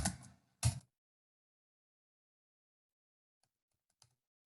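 A couple of quick keystroke bursts on a computer keyboard while coding a Django page, close but quiet, followed by near silence with two faint clicks.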